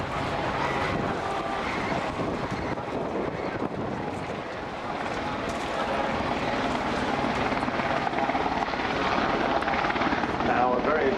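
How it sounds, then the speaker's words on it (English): A Westland Sea King helicopter in yellow search-and-rescue livery flies at a Southport air show on a dull grey day, its steady, loud rotor thump and engine roar mixed with wind buffeting, while a commentator talks over it. "there'll be many grown-ups here who will remember seeing these Sea King helicopters in the yellow livery"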